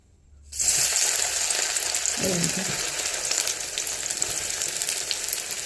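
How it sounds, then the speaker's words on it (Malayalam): Curry leaves dropped into a hot pan set off a sudden, loud sizzle after a brief silence. A steady, close, crackling fry follows and carries on to the end. "പിന്നെ ഒരു പാൻ അടുപ്പത്ത് വെച്ചിട്ടുണ്ട്, കരിയാപ്പല ഇട്ട് കൊടുക്കുക."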